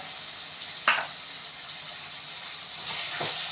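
Coriander sautéing in a pan of Tamil fish kulambu gives a steady soft sizzle, broken by two brief stirring scrapes.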